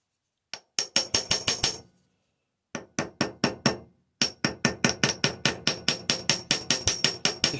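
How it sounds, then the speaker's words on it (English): A small hammer taps a copper rivet into a countersink while a hinge bracket is fitted on a live-steam Britannia locomotive model. Crisp, ringing metallic taps come in three quick rhythmic runs, close and clear, with short pauses between them. "I'm just tapping the sides just to make sure the rivet's fully seated."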